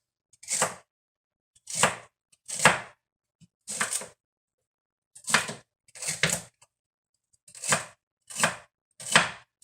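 Cucumber, celery and other raw salad vegetables chopped on a board, sharp knife strikes coming in short separate bursts of two or three, close and crisp against a quiet background.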